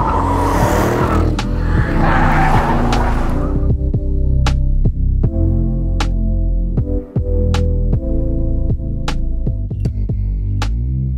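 A loud Aston Martin Vantage engine roars hard, then shifts into repeated sharp revving bursts with pops and crackles, close and aggressive throughout.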